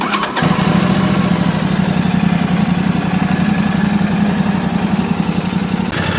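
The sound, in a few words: Royal Enfield Classic 650 motorcycle engine idling, muted exhaust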